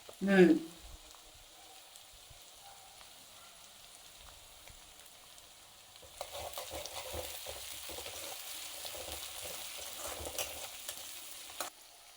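Crushed garlic and curry leaves fry in a pan with a soft, steady sizzle that swells midway, preceded by a brief clatter as they go in, with occasional stirring noises.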